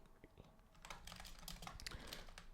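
A computer keyboard clatters as C code is typed into a new main.c file in the Emacs editor, with quick, irregular keystrokes in a quiet room and no talking.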